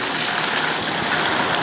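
Water gushes steadily from a Mueller fire hydrant made in 1999 being flushed, a loud continuous rushing roar that fills the short stretch without pause.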